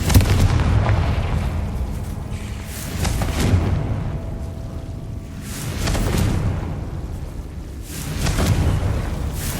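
Repeated Confringo blast spells explode in the Hogwarts Legacy video game, four deep, rumbling booms arriving roughly every two to three seconds, each swelling and then fading.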